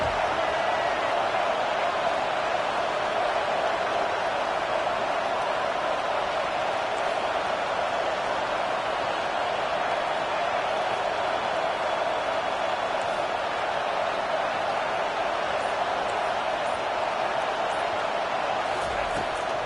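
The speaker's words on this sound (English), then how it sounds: "Decibels rising as the crowd gets behind this defense on third down" A steady, loud stadium crowd roar on third down in College Football 25, a constant wash of cheering and noise with no breaks.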